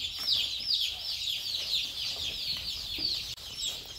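Baby chicks, brown laying hens and Cornish cross chicks peep in a steady stream of high chirps, close and fairly loud, with no talking.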